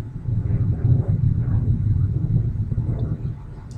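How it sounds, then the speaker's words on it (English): An airplane passing overhead makes a steady low rumble that fills the whole stretch, fairly loud and continuous and heard alone. "Wait till the airplane goes by."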